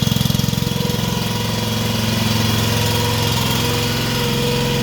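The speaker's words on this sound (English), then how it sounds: "engine's running" A Centipede dune buggy engine idles close by in a steady, mechanical chug with a regular low pulsing throb and a constant rattly hum, with no talk over it.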